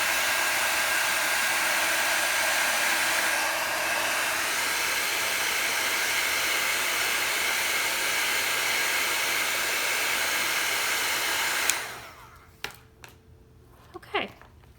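A heat tool blows a steady, loud, hissing rush of air onto a handmade Christmas card for about twelve seconds, then cuts off, leaving a few faint clicks and handling noises.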